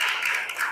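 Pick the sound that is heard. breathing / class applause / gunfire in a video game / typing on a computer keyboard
class applause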